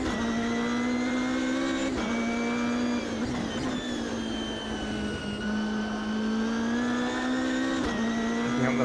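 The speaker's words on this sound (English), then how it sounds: "Picking up the throttle on the exit of the coppice and we're off down the straight" A race car engine in the sim game Automobilista 2 drones loud and steady as it accelerates out of a corner and down a straight, pitch climbing through sustained revs with brief dips at gear changes.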